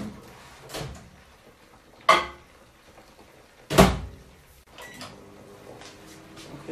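A mug is set inside a kitchen microwave and the door is shut, giving two distinct, fairly close clunks a couple of seconds apart over quiet room tone.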